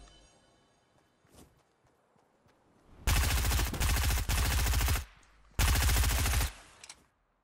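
SMG gunfire in Fortnite comes in two loud, rapid bursts of close automatic shots, the first lasting about two seconds and the second shorter, after a few faint footsteps and quiet movement sounds.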